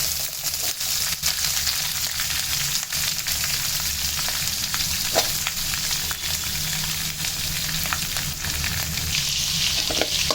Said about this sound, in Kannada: ಆನಿಯನ್ ಹಾಕಿ ಮತ್ತು ಚಿಲ್ಲಿ ಎರಡನ್ನೂ ಹಾಕಿ ಸ್ವಲ್ಪ ನಿಧಾನಕ್ಕೆ ಈ ಥರ ಫ್ರೈ ಮಾಡ್ಕೊಳ್ಳಿ